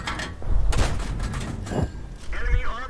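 Tank cannon fire in World of Tanks, several booming shots and rumbling impacts in quick succession, loud and close, with speech over the battle.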